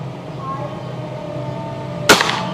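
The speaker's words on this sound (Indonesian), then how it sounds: "kita coba tembak lubang-lubang di dinding itu" A single sharp gunshot fired at holes in a wall from a powerful rifle, one loud close crack with a brief tail after a stretch of low background noise.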